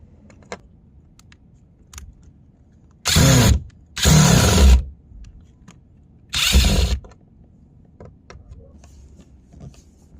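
Metal tool sounds from loosening the door check screws on a car door with an Allen key: three short bursts of scraping, ratcheting clatter near and loud, separated by quiet pauses with faint clicks.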